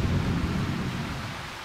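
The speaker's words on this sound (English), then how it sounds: "Holy shit, it's a downpour now." A heavy downpour with a rumble of thunder in the horror video game Lost in Vivo, a dense hiss of rain over a low roll that swells at the start and then eases off.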